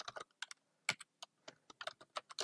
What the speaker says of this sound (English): Now I am typing as name and the value will be wikidev